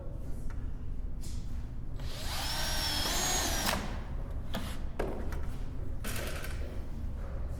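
Power drill pre-drilling holes in wood for a chair, a sustained whine lasting about a second and a half and then stopping, with lighter handling knocks and clicks before and after, close up against steady background hum.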